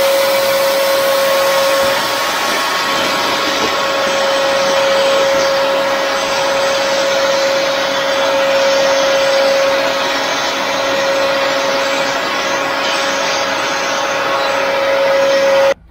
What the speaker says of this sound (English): I'm going to take the vacuum and get rid of all this.